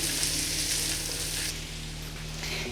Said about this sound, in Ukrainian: Я зазвичай обсмажую буквально 5, е, максимум 7 хвилин